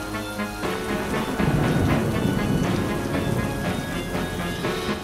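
A cartoon thunderstorm pours heavy rain with deep rolling thunder, a dense steady wash of downpour that swells louder after a brief quieter start, with no talking.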